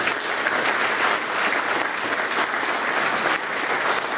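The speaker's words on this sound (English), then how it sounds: "Let's give them a big hand." Sustained, even applause from an audience at a polka Hall of Fame induction ceremony fills the room, a dense crowd clapping steadily for several seconds without a break.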